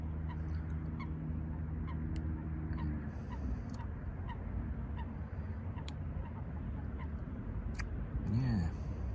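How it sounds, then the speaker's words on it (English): A flock of Canada geese honking beside a wintry carp-fishing lake, repeated nasal calls, some distant and some nearer, over steady outdoor background noise. "That's the most Canadian geese I've seen here. They just kept coming."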